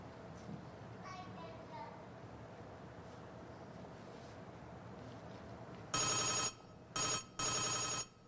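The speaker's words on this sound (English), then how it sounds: "That is the phone." During a high school stage production of the play Harvey, a telephone bell rings in loud, harsh bursts, one long ring followed by two shorter ones, after a stretch of quiet stage ambience.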